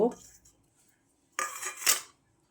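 Raw prawns being mixed with chicken masala, coriander powder and spices in a bowl, giving a short clatter of utensil against dish, a quiet pause, then a louder scraping, clinking burst near the end.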